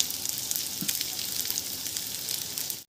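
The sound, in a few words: large cut onions frying in oil in a kadhai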